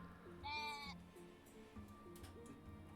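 Sheep bleating in the video game Equilinox, one short wavering bleat followed by softer low calls over a steady game background.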